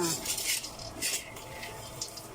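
Cacao beans being roasted and stirred in a pan in Samar, faint scraping and rattling strokes of a utensil against the pan, with soft background voices.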